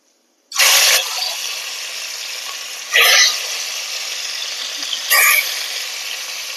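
Rohu fish frying in oil in a kadai: three sharp sizzling bursts as pieces hit the hot oil, each easing into a steady, crackling hiss that carries on between them.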